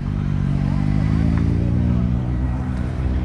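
A turbocharged Ford Escort engine with a stuck throttle runs loud and steady, a dense continuous drone held at high revs for the whole stretch, with no break or fall in pitch.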